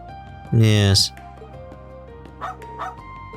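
A dog in the video game Trails into Reverie gives one loud bark with a rising yelp, followed later by two softer whimpering yips over quiet background music.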